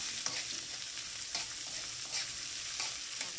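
Onion sizzles and crackles in hot oil in a pan, a steady hiss broken by a few soft stirring scrapes, close and unbroken with no voices.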